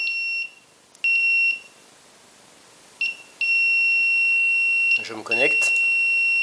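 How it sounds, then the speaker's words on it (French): A J-Mini FPV drone's buzzer sounds repeated loud, sharp electronic beeps in on-off bursts while its radio transmitter is switched off, with someone talking over it. "c'est normal que ça buzz parce que la radio n'est pas allumée"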